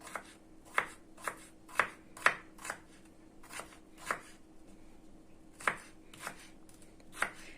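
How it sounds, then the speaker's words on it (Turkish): A knife chops peppers into small pieces on a board, about a dozen crisp, close taps in an uneven rhythm with short pauses, heard alone in a quiet room. "büyük olduğu için bu biberim de bu şekilde küçülterek doğruyorum"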